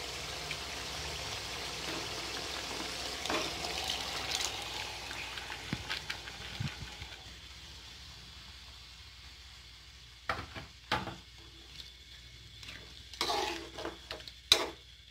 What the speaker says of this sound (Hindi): अब मैं इसको 10 से 15 मिनट के लिए तेज़ आंच पे इसको भूनूंगी।